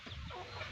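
A chicken offered for sale gives a faint, brief cluck against a low background rumble, heard from a short distance and very quiet.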